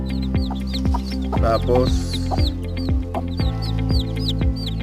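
A native hen clucks steadily while her chicks peep, a loud, close, continuous farmyard chorus with a brief spoken word in the background.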